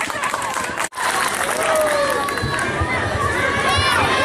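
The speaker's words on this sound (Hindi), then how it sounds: "जोरदार ताली।" An audience at a Hindi comedy stage play bursts into loud, dense clapping mixed with cheering and crowd noise, continuing without a break after a brief dropout near the start, with voices mingled in.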